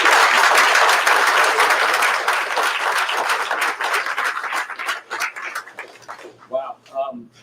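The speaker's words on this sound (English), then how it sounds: "I just want y'all to give him a round of applause," Luncheon audience at a college basketball tip-off event bursts into dense, loud applause that gradually thins into scattered claps and a few voices by the end.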